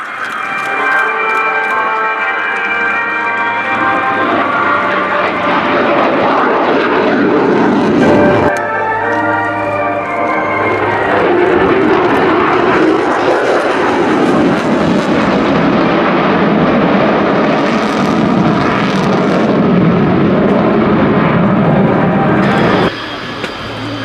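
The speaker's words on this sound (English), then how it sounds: "the United States Air Force Heritage Flight" Aircraft of the US Air Force Heritage Flight perform a flypast at the Royal International Air Tattoo, RAF Fairford, their engines roaring loud and steady throughout, swelling and shifting in pitch as they pass.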